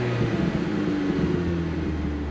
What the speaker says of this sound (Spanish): Vamos pisando el embranque y vamos arrancando el coche. Ese es el sonido que hace.